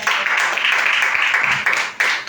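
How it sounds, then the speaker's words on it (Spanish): A church congregation claps loudly for the Lord during a sermon, a dense, sustained burst of many hands applauding that swells and dips slightly toward the end. "Dale un aplauso fuerte al Señor."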